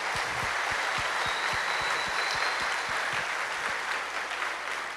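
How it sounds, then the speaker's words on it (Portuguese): A church congregation claps loudly and continuously after a sermon on Daniel in Babylon, a dense sustained wash of applause with some sharp individual claps standing out near the recorder. "Aplaudir"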